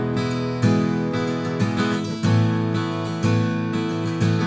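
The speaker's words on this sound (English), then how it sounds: "Together they sound like this with the sides wide open." Acoustic guitar recorded with a mid-side pair, the side channel fully open, strums a steady rhythm of chords with regular accented hits, up close and full.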